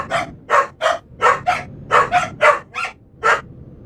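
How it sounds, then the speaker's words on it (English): A dog barks at someone at the door, a rapid run of about ten loud, close barks in an uneven rhythm. "Sorry about the dog barking. There is somebody at the door."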